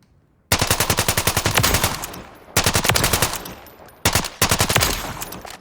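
Rifle chambered in 7.62x39mm firing in Call of Duty Modern Warfare III, three loud close automatic bursts of rapid, evenly spaced shots, the first burst longest.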